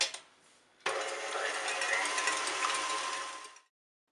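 Electric mixer whisking 50 g of egg whites into stiff peaks for nougat, a sudden loud whirring buzz that starts after a short quiet moment, holds steady for about three seconds, then cuts off abruptly.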